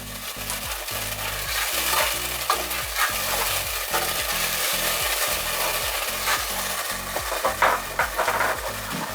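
Garlic and onion sizzle in a pan while a utensil stirs them, producing a steady frying hiss with repeated scraping strokes, close and continuous.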